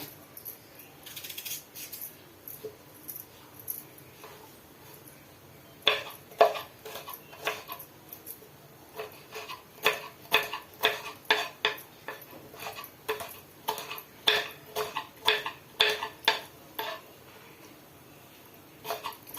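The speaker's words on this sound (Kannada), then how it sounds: "ಈ ತರ ಚಾಕುನಲ್ಲಿ ಫಾಸ್ಟ್ ಆಗಿ ಕಟ್ ಮಾಡಬಹುದು" A knife chops raw mango into small pieces on a board, producing sharp close-up taps that start sparse, then turn into fast, fairly regular bursts of chopping with brief pauses between runs.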